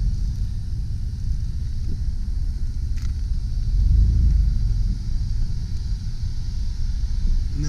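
A 1995 Chevrolet Astro conversion van backs up in reverse, its engine giving a steady low rumble with road noise that swells briefly midway, with no talking.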